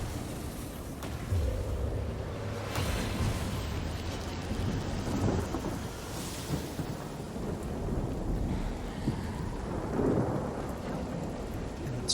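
Steady rain with rolling thunder from a spell cast in the PC game Divinity: Original Sin Enhanced Edition, a continuous loud downpour with deep rumbles throughout and no talking.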